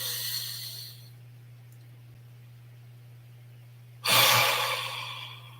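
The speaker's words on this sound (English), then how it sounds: "please take a nice deep breath" A single deep breath is drawn in during a guided check-in meditation, a loud breathy rush arriving near the end after several quiet seconds with a steady low hum.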